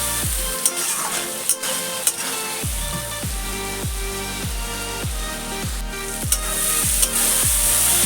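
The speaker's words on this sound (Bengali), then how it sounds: "এবার এটা আমি ভালো করে কষিয়ে নেব।" Chicken curry masala, softened with a splash of water, is worked with a spatula in a pan: steady sizzling runs throughout, broken by repeated rhythmic scraping strokes, close and fairly loud, with no talking.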